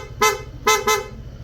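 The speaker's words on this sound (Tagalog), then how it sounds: "sa busina ang kinabit natin kay sir is original PIAA dual horn setup" A loud, bright PIAA dual electric horn on a Honda ADV160 scooter honks three times close by: one short blast, a gap, then two quick toots in succession.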